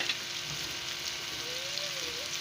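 Spices sizzle and fry in a hot pan as the masala for a chicken liver and potato curry, coriander, turmeric, garam masala and green chilli, hissing steadily at moderate loudness with no voice.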